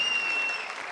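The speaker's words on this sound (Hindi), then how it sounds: "जोर से तालियां, जोर से।" An audience at a Minority Day political gathering claps in a short, dense burst, with a thin steady high tone hanging over it for the first half.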